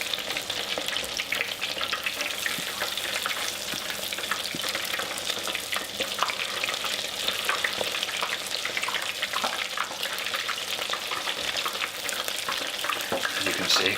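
Scotch eggs deep-fry in a basket of hot oil while being moved around, giving a dense, continuous bubbling sizzle with faint scraping, close and fairly loud throughout.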